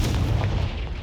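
A Confringo fire spell blasts in the Hogwarts Legacy video game. One loud, deep, rumbling boom fills the whole moment with no voices.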